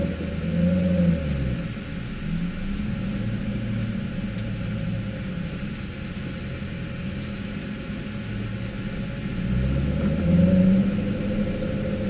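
Engine rumble heard from inside a car at the Spring Mountain driving school as the cars roll out toward the race track, a steady low drone that swells briefly near the end.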